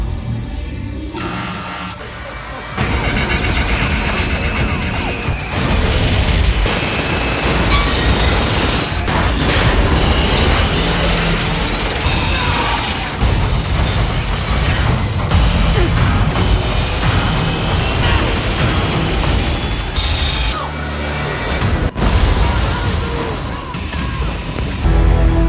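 Loud, sustained crashing and rumbling fill the clip after a quieter start, with booming bursts and mechanical clatter continuing for over twenty seconds.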